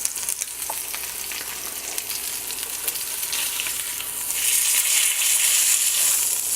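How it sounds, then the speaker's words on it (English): Swordfish sears in a hot pan with a dense, steady sizzle and crackle, close and constant, swelling louder toward the end, with no voices. "it will sear the edges just a little bit"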